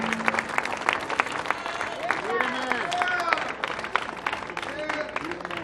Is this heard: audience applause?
yes